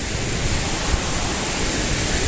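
Creek water flowing along a mountain trail, a steady, dense rushing wash close by with no talking.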